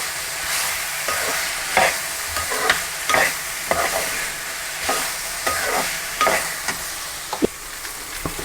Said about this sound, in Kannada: ಇದರೊಟ್ಟಿಗೆ ಹಾಕಿ ಬಾಡಿಸ್ಕೊಳ್ತಾ ಇದ್ದೀನಿ. ಒಂದು 5 ನಿಮಿಷ ಫ್ರೈ ಮಾಡಿದರೆ ಸಾಕು.